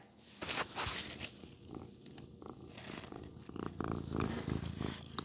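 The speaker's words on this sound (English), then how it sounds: "You hear her purring." A cat purrs steadily and close by, a soft rumbling rhythm that carries through the whole stretch with no talking.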